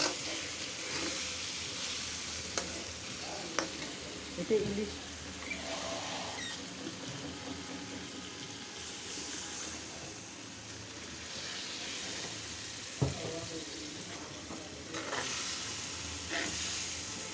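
Hilsa fish pieces fry with olives in a pan, making a continuous soft sizzle and hiss with occasional stirring clatter. A voice speaks briefly over it.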